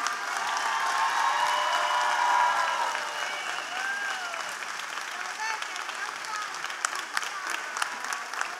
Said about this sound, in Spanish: Fuerte el aplauso para el doctor Coste.